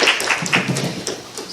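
An audience claps for a performer at an open mic event, a short burst of scattered applause from a modest crowd with a faint voice mixed in.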